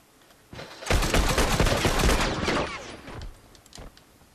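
Dense rapid gunfire from a PS3 multiplayer match of The Last of Us: a loud volley of overlapping shots lasts about two seconds, then thins into a few scattered, fainter reports.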